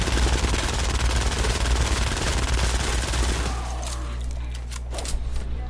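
Rapid automatic gunfire from a video game weapon in Fortnite Save the World, a dense sustained burst emptying more than a full magazine, then tapering into scattered shots and debris noise.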